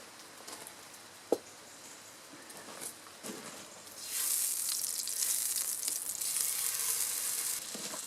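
Cooking oil sizzles on an EcoZoom stove heated by a wood fire outdoors, starting with a few faint crackles and taps, then swelling into a steady, fairly quiet hiss that holds to the end.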